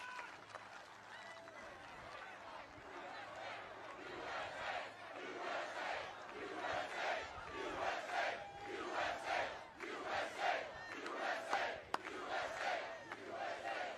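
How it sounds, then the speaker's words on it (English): A large crowd at an outdoor political rally in Wisconsin roars and cheers in a sustained, swelling wash of voices, with shouts and some clapping rising and falling throughout. "What an incredible crowd."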